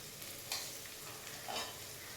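Shallots frying in a pan for a mutton butter gravy, giving a steady soft sizzle with a couple of brief stirring scrapes, close and fairly quiet.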